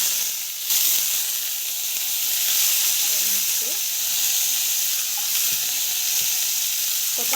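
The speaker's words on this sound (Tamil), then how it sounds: "ஸோ கடுகு போட்டு, சீரகம் போட்டு, கடலைப்பருப்பு போட்டு," Mustard seeds, cumin and chana dal sizzle in hot oil while a vegetable rava kichadi is being made, a steady bright hiss filling the whole stretch with small pops, loud and close, under faint occasional voice.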